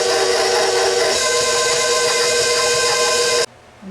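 An electric mixer whirs at medium speed, beating cream cheese with confectioner's sugar. The hum stays loud and steady, then cuts off abruptly near the end.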